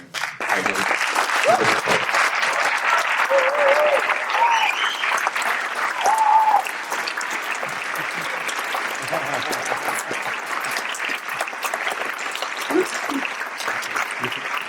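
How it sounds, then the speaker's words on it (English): An audience at a film screening applauds a guest with steady, full clapping that fills the whole stretch. The room sound stays even throughout, with a faint murmur of voices beneath it. "Please applaud our dear friend."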